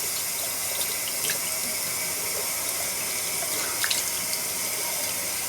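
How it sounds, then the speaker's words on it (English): Tap water runs steadily into a sink while a face is rinsed, a continuous close hiss with faint splashes and no talking. "And then rinse it off."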